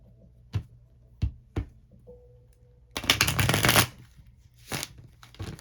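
A Dream Keepers tarot deck is handled close by: a few sharp taps of cards on a surface, then a quick, crisp riffle of shuffling, followed by softer card flicks.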